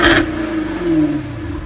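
A Jaguar F-Type V8 AWD with its sports exhaust engaged revs up close and loud, a sharp initial bark settling into a sustained engine drone that swells and eases over a couple of seconds.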